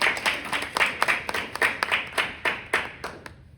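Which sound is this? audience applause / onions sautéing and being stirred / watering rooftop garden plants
audience applause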